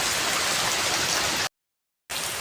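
Rain falling outside a house: a loud, steady hiss of heavy rainfall that cuts to complete silence for about half a second, then resumes at the same level.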